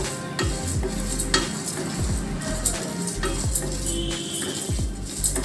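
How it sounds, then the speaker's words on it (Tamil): Whole spices such as cumin, cinnamon, cloves and cardamom dry roasting in a pan without oil, with a steady close rattle and light sizzle as they are stirred and scraped with a spoon. "ஆயில் போடாமல் வெறும் ட்ரை ரோஸ்ட்டு தான் பண்ணணும்"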